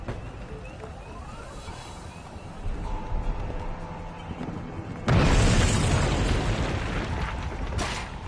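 A bomb goes off in the video game We Happy Few: a rumbling build-up gives way to a sudden loud, sustained roaring blast that fills the scene.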